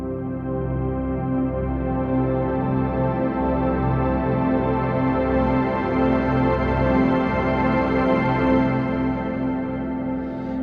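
A sustained, slowly shimmering ambient synth pad made from stretched organ, with rich harmonic layers, holds steady and full throughout, no voices.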